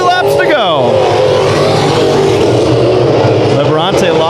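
Dirt track race cars roar through a heat race at KCRP, engines loud and sustained with a car whining past early and another near the end, while an announcer talks over the noise throughout.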